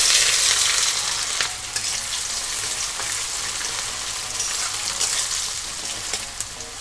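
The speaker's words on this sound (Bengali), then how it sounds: "সেই পেঁয়াজ কুচি দিয়ে দেবো" Chopped onion dropped into hot oil in a wok for egg tarka, giving a loud, steady hiss and crackle that starts strongest and settles slightly, with a few sharp pops, close up and without speech.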